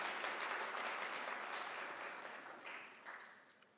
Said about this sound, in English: I want you to give a round of applause to our academics